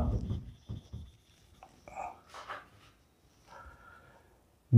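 A marker or chalk writes numbers on a board during a maths lesson for young pupils, a few faint, scattered scratching strokes separated by quiet gaps.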